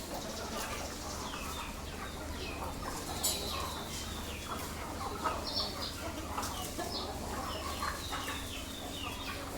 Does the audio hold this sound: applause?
no